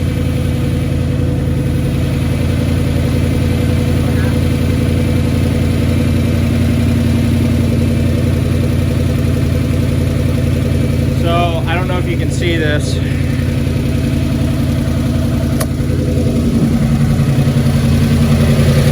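A 1996 Ford F250 truck engine idles loudly and steadily, burning oil out through the exhaust. A continuous low rumble runs throughout, and someone speaks briefly over it.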